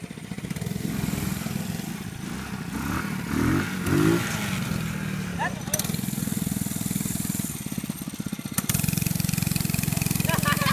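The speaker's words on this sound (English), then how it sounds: "That's a wheelie." Mini bike engine revving during a wheelie, a raspy small-engine buzz that rises and falls with clattering, heard at a distance while people talk and shout.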